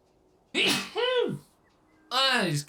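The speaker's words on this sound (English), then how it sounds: "Bet you didn't think a robot could sneeze" A person lets out two sharp sneezes close to the mic, the first split into a quick two-part burst and the second a single loud explosive one a moment later, in a quiet room.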